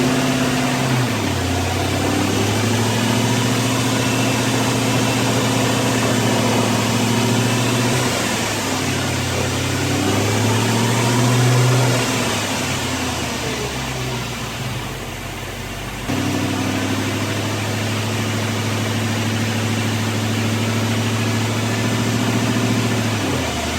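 A Ford 8.8 rear differential running steadily with a low, even mechanical drone and engine hum, fairly loud and unbroken for the whole stretch, with a brief dip in level partway through and no talking.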